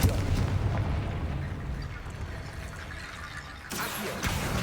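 Explosive fiery blast of the Confringo spell in Hogwarts Legacy, a loud rumbling burst that fades into a dull roar, then a second whooshing burst near the end.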